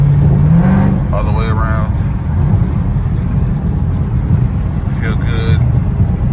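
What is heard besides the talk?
street car driving home on the freeway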